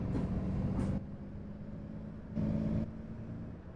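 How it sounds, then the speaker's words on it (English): Diesel bus engine in the Omsi 2 driving simulator, a low steady drone with rumbling harmonics that swells louder in two short bursts, as if under acceleration, with no one talking over it. "this doesn't sound like an electric, this sounds very diesely"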